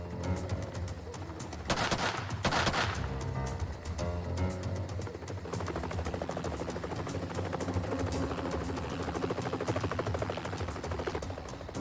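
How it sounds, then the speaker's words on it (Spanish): A helicopter hovers above a barn during an armed standoff, its steady rotor rumble continuing throughout, broken early by a loud, sharp burst of gunfire. "un helicóptero vigilaba al granero desde arriba"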